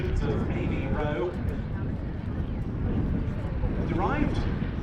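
A vintage Avro 504K biplane flies at an airshow, its engine a steady distant drone heard under continuous commentary from someone speaking throughout.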